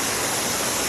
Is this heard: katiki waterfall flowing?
yes